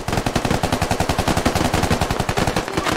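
Rapid automatic gunfire in the video game Squad comes as a fast, even burst of close, loud shots that runs without a break for about three seconds.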